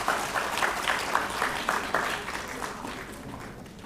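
A conference audience claps briefly, a burst of many hands with some distinct individual claps early on that thins and fades over a few seconds, no talking over it.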